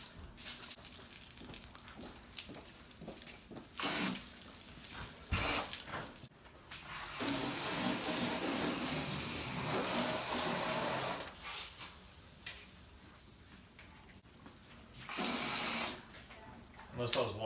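Hard water spraying over a Tesla Model 3 during a detail rinse, a steady hiss of running water with loud bursts as the spray hits the body, while people talk between passes.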